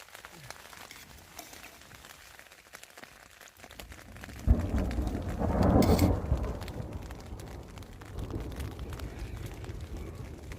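Steady rain patters throughout on the Pacific Crest Trail while a deep roll of thunder directly overhead swells in the middle and fades into a lingering rumble.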